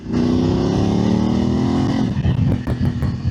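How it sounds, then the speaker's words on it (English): A Voge DS900X motorcycle fitted with a Scorpion carbon fibre exhaust cruises at about 3000 rpm in third gear, a loud, steady, close engine drone with a slowly rising pitch that eases and pulses slightly near the end. "I want you to be able to hear the sound of the exhaust"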